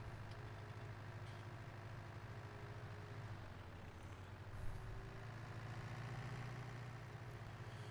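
A farm vehicle driving in Landwirtschafts-Simulator 19, a steady low engine drone with a faint hum, quiet and constant throughout.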